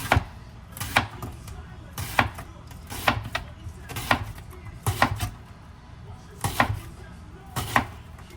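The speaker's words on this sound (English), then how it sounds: "I'm just going to cut it in half, and I'm going to cut it this way." A sharp knife chops through food on a cutting board in close, evenly spaced thuds, about eight firm strikes with quiet gaps between them.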